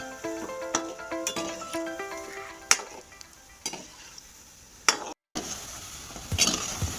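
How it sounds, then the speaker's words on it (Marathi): Semolina gulab jamun balls fry quietly in oil over a low flame with a soft bubbling sizzle. Sharp utensil clinks and faint background tones break in now and then. "हे पेढे आपल्याला कमी गॅसवरच तळायचे आहे"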